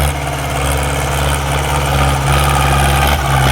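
A Ford 6610 farm tractor's diesel engine throbs loudly and steadily nearby, a deep, continuous rumble.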